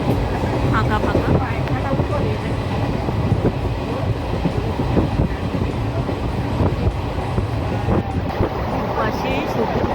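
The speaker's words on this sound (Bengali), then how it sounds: "আমি ট্রেনে চেপে এগিয়ে যাচ্ছি।" Inside a moving passenger train travelling through green countryside toward Garhbeta station, a dense continuous rumble of wheels on rails fills the space, with rhythmic clatter and rattling carriage noise throughout.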